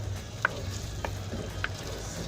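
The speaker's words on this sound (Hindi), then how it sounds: "अब अरबी डाल के अच्छी से इसकी भुनाई कर लें" Taro root (arvi) with spices is stir-fried in a pan, a faint steady sizzle broken by three sharp metallic clinks of a spoon against the pan, close but quiet.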